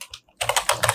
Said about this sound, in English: And I'm typing